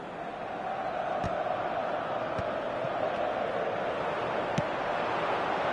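Stadium crowd in the football video game eFootball 2025, a steady, dense roar that holds at an even level throughout, with a few faint thuds scattered through it.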